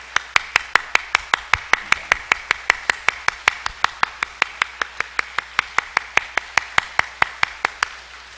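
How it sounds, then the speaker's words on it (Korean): Church congregation welcoming a newcomer with rhythmic unison clapping, about four even, sharp claps per second repeating steadily and crisply from start to finish. "우리 박수로 환영하십니다."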